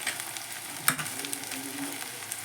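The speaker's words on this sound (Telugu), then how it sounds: "చక్కగా మంచిగా మిక్స్ చేసుకోండి." Fried okra tossed with turmeric sizzles softly in a pan while a spoon stirs it, giving a low, steady crackle with one sharp scrape near the start.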